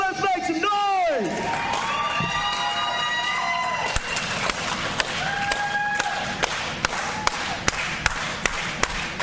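A wrestling main-event crowd cheering in a venue, a broad steady roar that follows an opening whoop and carries on under sharp, regular taps and thuds.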